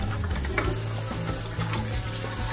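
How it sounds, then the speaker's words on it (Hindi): Chopped onions with green chili and ginger fry in a pan, a brief, loud and dense sizzle heard close up. "थोड़ा सा फ्राई करेंगे इसके साथ, डालते हैं अपने कटे हुए प्याज"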